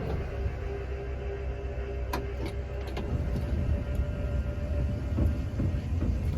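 A 2019 Dodge Grand Caravan VMI wheelchair van runs its ramp and door motors, making a steady mechanical whir and hum. A few sharp clicks and clunks from the mechanism come through near the start and middle, with no talking.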